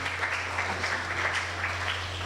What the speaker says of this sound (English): Let's give another round of applause to Dr.